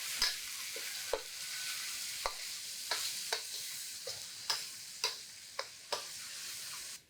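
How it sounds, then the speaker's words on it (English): Laksa paste frying in vegetable oil over medium heat, a steady close sizzle broken by regular spatula scrapes and taps against the pan roughly every half second, with no voices. "So now let's cook the paste."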